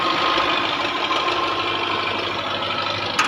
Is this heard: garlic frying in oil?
no